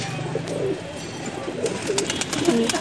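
A mohri pigeon cooing close by in a rooftop loft, with repeated soft throaty coos over a steady background hum.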